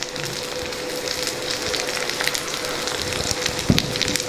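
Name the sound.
cluster beans and beans frying with onions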